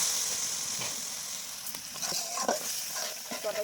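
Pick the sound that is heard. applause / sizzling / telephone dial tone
sizzling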